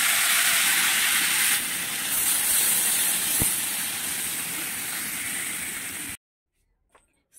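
Fried pieces go into a pot of cooking vegetarian cauliflower dish. A loud, steady hissing sizzle runs for about six seconds and then cuts off abruptly into near silence.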